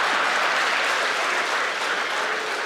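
An audience at an event with Nigeria's President Tinubu gives dense, sustained applause that stays loud and steady throughout, with many hands clapping together and no voices over it.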